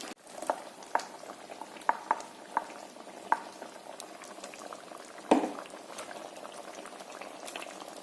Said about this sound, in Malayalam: മീൻ തിളച്ചു